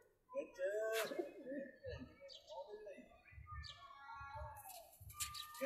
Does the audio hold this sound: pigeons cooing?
yes